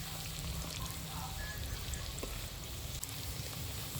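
Potato pakoras deep-frying in hot oil over a low flame, giving a steady, dense sizzle and crackle that runs unbroken at moderate level, with no talking.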